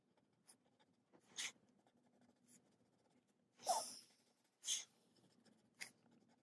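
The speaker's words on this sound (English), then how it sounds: "Just a bit all the way up there with the twistable pencil." Twistable colored pencil coloring on paper for a drawing of a plant, heard as several short, close scratchy strokes separated by quiet pauses.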